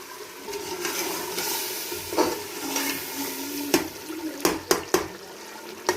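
Minced meat and split chickpea lentils sizzling in oil in a pot for khichdi, stirred with a spoon; a steady close frying hiss carries scattered scrapes and a few sharp clacks of the utensil against the pot.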